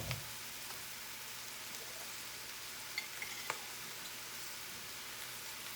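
Sausage pieces fry quietly in a pot for seafood gumbo, giving a faint, even sizzle with a couple of soft utensil clicks, with no talking.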